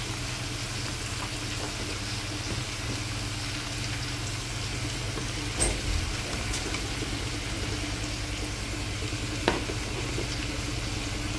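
Steady quiet sizzling of onion frying in a pan, continuous hiss with an occasional soft clink, no voices.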